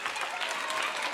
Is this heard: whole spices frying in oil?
no